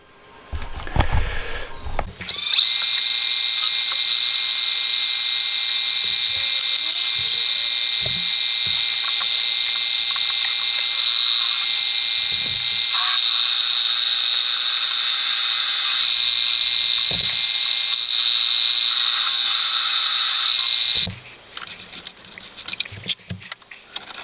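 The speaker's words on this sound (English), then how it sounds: "I'll get this tidied up on the lathe" A metal lathe machines a part for a buggy build, running with a loud steady high whine for about twenty seconds, with a few soft knocks under it, then spinning down.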